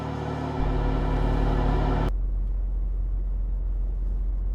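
A Saab 9-3 Turbo X drives with a steady low engine rumble and road noise up close, a loud harmonic drone at first that drops to a broad, even hum partway through, with no talking.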